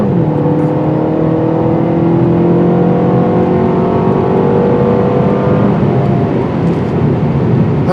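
A 2024 Mercedes CLA250 accelerates hard, its engine note climbing steadily through the gears for several seconds, loud and close with a continuous whirring drone and no talking.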